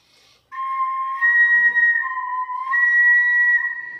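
A replica whistling vessel, empty of water and being moved, gives off clear, sustained dual-pitched whistle tones that shift slightly as it tilts, loud and close in a sound museum.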